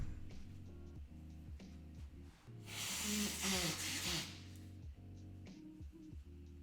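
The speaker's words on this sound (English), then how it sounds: "Okay, hang on, I just gotta blow my nose." A person blows their nose in one loud, breathy honk lasting about a second, close to the microphone, over a steady background of music.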